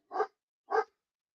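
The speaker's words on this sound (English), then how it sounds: "Oh, these bloody fucking dogs." Two short, sharp dog barks about half a second apart, close and clear against silence.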